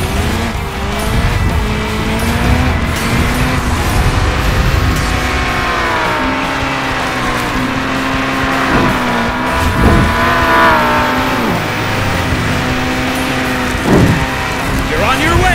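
A car driven in the Matchbox Driving Adventures console game on PS5 gives a steady, loud engine drone with shifting pitch, broken by occasional tire squeals and skids throughout.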